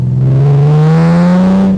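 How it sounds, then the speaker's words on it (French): A Morgan Roadster's 3.0-litre V6 accelerates hard, its loud, smooth engine note climbing steadily in pitch over a couple of seconds, close and with no voices. "Les envolées lyriques de cette Morgane V6 quand on accélère."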